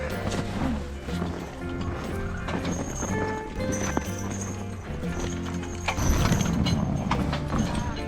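A team of heavy draft horses, about 2,000 pounds each, pulls a hay bale through snow, hooves clip-clopping in a busy irregular rhythm under steady ambient noise, with a short whinny-like tone mixed in.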